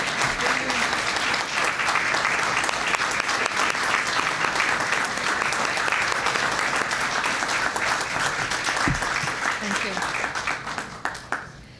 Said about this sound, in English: I'd like for all of them to stand for another tremendous round of applause